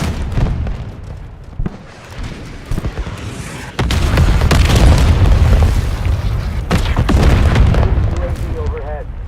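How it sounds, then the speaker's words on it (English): Artillery salvo bursting overhead in a combat setting: repeated loud, heavy booms and crackling blasts rolling one after another at close range, with a dense rumbling wash between impacts and brief shouted voices underneath. "Salvo overhead."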